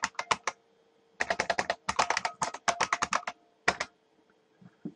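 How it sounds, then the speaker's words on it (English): Rapid bursts of keystrokes on a computer keyboard as a password is entered, in clustered runs with short pauses, close and clear over a quiet room. "And then I have to type my root password in clear text"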